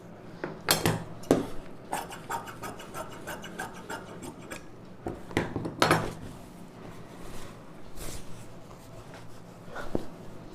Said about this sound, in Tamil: இந்த பார்டரை கட் பண்ணி எடுத்துக்கலாம்